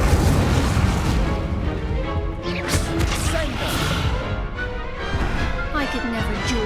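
A fiery Incendio spell bursts during a duel in Hogwarts Legacy, giving dense, loud booming crashes and rumbling blasts that run through the whole stretch, layered with crackling impacts and swooshing magical effects.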